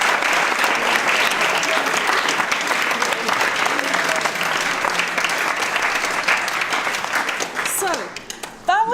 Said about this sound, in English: So I think a round of applause to all the speakers first of all